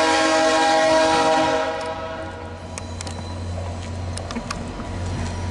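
A VIA Rail passenger train passes close by, sounding a loud sustained horn blast that fades into the rumble and clatter of the cars rolling past.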